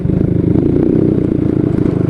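A 2011 Rakal 110 motorcycle being ridden, its small engine putting out a loud, steady buzz over rough rattling and wind noise throughout the short stretch.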